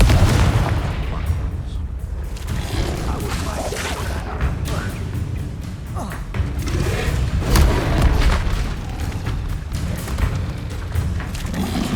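Confringo fire spells burst in the video game Hogwarts Legacy, with repeated booming blasts and crashes over a dense, loud, continuous game soundscape.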